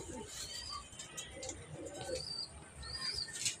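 A white Budapest pigeon coos softly in short, low, rolling phrases close by, with a few faint chirps and wing rustles and someone talking quietly nearby.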